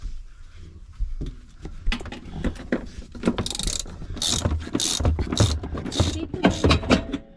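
An 18mm socket on a ratchet tightens a seat base bolt in a Ford Transit Custom during a swivel seat install, with bursts of close, rapid clicking that grow busier and louder toward the end.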